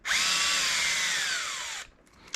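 A power drill with a 2.5 bit backs screws out of the passenger side of a Ford F-450 truck, one steady high whine that winds down after nearly two seconds, close and alone.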